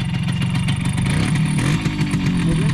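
A Simson motorcycle engine running close by with a steady buzzing two-stroke drone that rises and falls slightly as the throttle is opened, loud and alone without talk.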